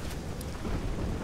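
Thunderstorm in the video game Risen 2, a faint wash of rain and low rolling rumble filling a short moment, steady and distant-sounding, with no talk.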